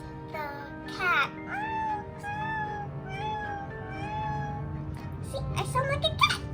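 A voice imitates a cat, giving several drawn-out, rising and falling meows in close succession with short gaps, loud and near, with soft talk and breathy sounds around them.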